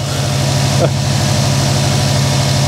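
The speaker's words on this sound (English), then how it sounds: "Car's running." A car engine idles steadily at close range, a constant low rumble holding throughout, with a brief higher-pitched sweep near the start; the car has just been restarted after its gas tank was derusted in place.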